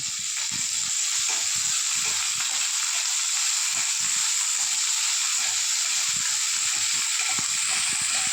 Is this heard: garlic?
yes